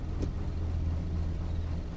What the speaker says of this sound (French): je vais reculer le camion pour qu'on soit plus près